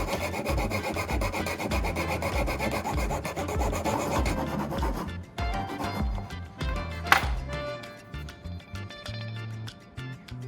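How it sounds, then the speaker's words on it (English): A small wooden stick, such as a popsicle stick, chopstick or dowel, is carved with a groove, giving close, rapid rasping scrapes in steady strokes for several seconds, then sparser scratches and a sharp knock, with no talk. "I'll carve a groove along the middle of the stick."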